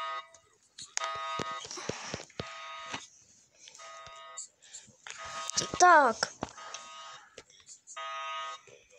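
An electronic alarm buzzes in short harmonic bursts, starting and stopping several times, with game sounds and a voice talking over it.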